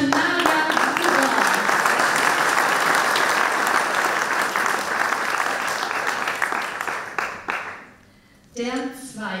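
An awards ceremony audience breaks into sustained, loud applause for a prize winner, steady clapping for several seconds that dies away before a voice resumes speaking.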